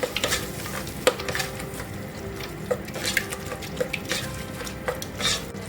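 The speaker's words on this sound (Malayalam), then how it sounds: "ഇതിലേക്ക് നമുക്ക് രണ്ട് സ്പൂണ് തൈര് ചേർത്ത് കൊടുക്കാം നല്ലപോലെ ഒന്ന് മിക്സ് ചെയ്ത് കൊടുക്കാം" Curd being stirred into tomato masala in a pan for masala rice: gentle sizzling runs under repeated close scrapes and knocks of a spoon against the pan, with no talking.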